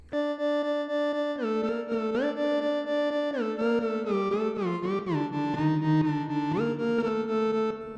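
A smooth synth sub bass tone built from sine and sawtooth oscillators glides between notes in a slow melodic line, with a buzzy harmonic edge over a deep fundamental, steady and close.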